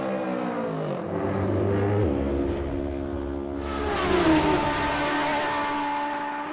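Michael Dunlop's MD Racing motorcycle during qualifying at the Isle of Man TT, a loud high-revving engine note climbing through gear changes as it passes close by, with no talk.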